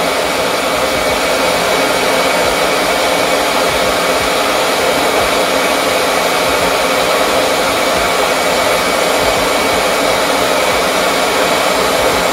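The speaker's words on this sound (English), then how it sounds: "And now I'm going to begin drying by using the wand." A RevAir reverse air dryer blows steadily through its drying wand on the low heat setting, giving a loud, close, unbroken whoosh that lasts throughout.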